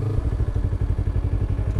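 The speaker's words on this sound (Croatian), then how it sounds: "Spet ovdje motor." A motorcycle engine rumbles steadily nearby, a low throbbing putter that holds for a couple of seconds without any talking.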